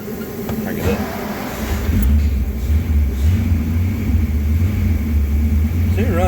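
A 1961 Ford Galaxie engine turns over and catches, settling into a close, rumbling run with a rising low throb, while someone talks nearby.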